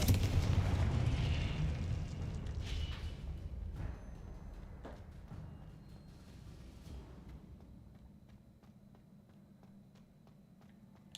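Spell blasts from the Confringo fire curse in the video game Hogwarts Legacy: a loud, dense burst of booming explosions at the start that rolls into a long decaying rumble, with a few sharp crackling impacts scattered through the tail.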